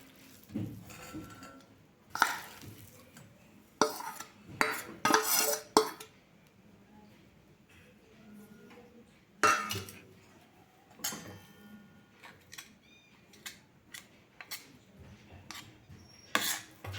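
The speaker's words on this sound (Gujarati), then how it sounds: "ગોળ અને સિંગદાણાના ભૂકાને એકદમ સારી રીતે મિક્સ કરી લેવાનું છે" Crushed peanuts being stirred into cooked jaggery in a pan for mawa chikki, giving intermittent scraping and clattering bursts of a spoon against the pan, separated by quieter pauses, with no talking.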